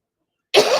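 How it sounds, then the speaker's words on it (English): A single sudden, harsh, somewhat wet cough bursts out loud and close after silence. "See, that was a little more productive than the dry cough."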